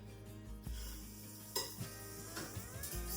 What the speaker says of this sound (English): So I got my griddle heated up over here. Let's go ahead and fry some. I like to fry with butter.